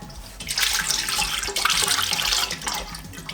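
Meat and fish stock pours into a pot of carrot stew with coconut milk, a continuous close splashing, gurgling stream of liquid lasting a few seconds with no voices.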